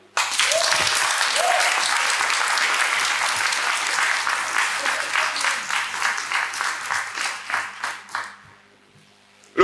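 A church congregation at a choir anniversary celebration breaks into loud, sustained applause that fills the hall, then slows into separate claps and fades to near silence, with voices faintly underneath.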